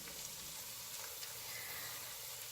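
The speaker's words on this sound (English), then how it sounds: "We're going to stir this tomato paste in." Tomato paste sizzling in a pan as it is stirred, a faint, even hiss throughout with soft scraping underneath and no voices.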